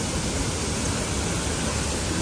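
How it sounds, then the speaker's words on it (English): A waterfall in a jungle-like setting gives off a dense, steady rush of falling water, broadband and unbroken, heard close and alone for the whole stretch. "this has been my favourite waterfall so far"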